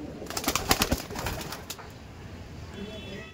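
Pigeons coo and flutter in a loft of winged master pairs, a few close, rough coos bunched near the start, then quieter rustling and a faint high call toward the end.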